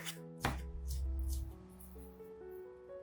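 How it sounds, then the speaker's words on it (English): Green onions chopped with a knife on a cutting board: one sharp, loud chop stands out, followed by softer cuts under steady background music. "Next, I chop the green onions like this."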